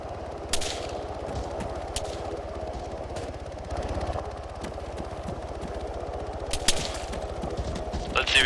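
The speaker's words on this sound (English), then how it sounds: "I don't like people shooting at my friends." Gunfire in the military video game ARMA 3, with intermittent single shots and short bursts at middle distance over a steady engine drone, some louder cracks nearer.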